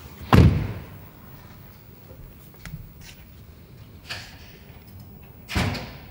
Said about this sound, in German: ich muss hier mal die Tür zumachen